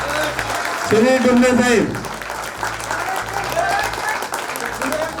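An audience at a transport depot staff gathering bursts into loud, sustained clapping to honour a guest, the dense applause running beneath an announcer's amplified voice over a low hum.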